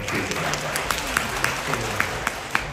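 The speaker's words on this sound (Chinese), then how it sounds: "谢谢您的掌声鼓励啊！" Audience applauding at a live crosstalk comedy show in Changchun, a moderate wash of clapping from the crowd with sharper individual claps, while a performer's voice carries over it.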